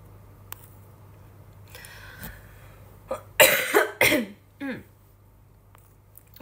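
A person coughs up close in a series of about three harsh, bursty coughs. Quiet room tone and a steady low hum sit under them, and there is no talk.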